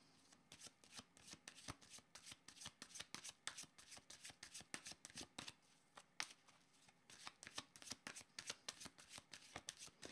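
Tarot cards are shuffled steadily for about ten seconds, a quick, close run of crisp riffling snaps and flutters, fairly quiet and with no talk.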